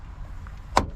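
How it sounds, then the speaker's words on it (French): A Renault Mégane 3 door opening gives a single short, sharp clunk from its check strap, fairly close, standing out against a low background hum. "Donc c'est les tirants de porte qui font du bruit."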